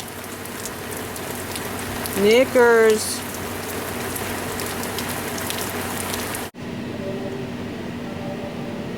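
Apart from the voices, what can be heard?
rain falling outside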